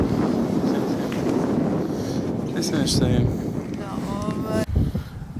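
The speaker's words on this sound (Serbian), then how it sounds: "Da jako duva vetar." Strong wind buffets the microphone with a constant low rumble throughout, while a voice speaks briefly near the end.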